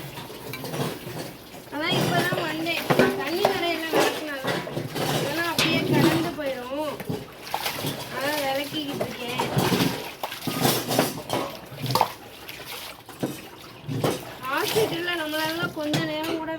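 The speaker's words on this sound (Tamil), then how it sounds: "பாத்திரம் விளக்கிட்டு இருக்கேன்" Dishes clink and clatter with running water and scraping, while someone talks over most of the clip.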